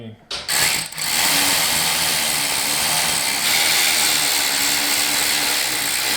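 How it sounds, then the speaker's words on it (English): Starter motor test-cranking a V8 engine swapped into a Porsche 911, a steady mechanical whirring drone that runs for several seconds after a few short clunks at the start, loud and close. "So we'll give her a test crank."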